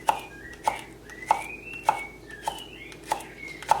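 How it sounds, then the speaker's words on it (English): Knife slicing spring onion on a cutting board, seven evenly spaced sharp chops in a steady rhythm, close and clear with no talk. "I am just going to slice the spring onion into small pieces"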